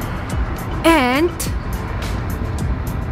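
A car rolls along on a road in Poland, heard from inside the cabin as a steady low rumble and hum, with people talking over it throughout.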